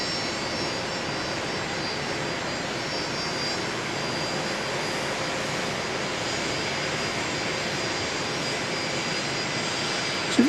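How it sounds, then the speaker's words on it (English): A plane moves across Dallas Love Field airport, its jet engine roar steady and broad from start to finish, moderately loud with no voices over it. "And we hear this plane on the move."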